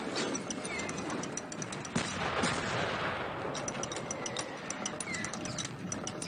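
Gunfire crackles throughout a World War I battle in the video game Valiant Hearts, rapid repeated shots in quick rhythmic bursts over a dense, noisy combat background.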